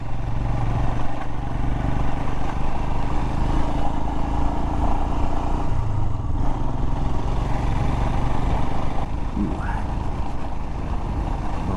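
A motorcycle rides a rough mountain road in North Carolina, a steady broadband engine drone and wind rush running unbroken and fairly loud throughout.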